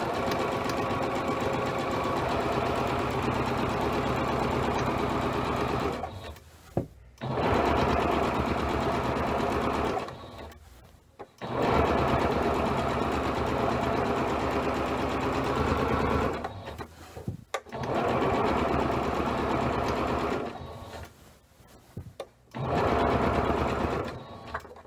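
A sewing machine stitches two rows of basting threads along the top of a Regency-style petticoat, running loudly in long steady bursts separated by brief pauses.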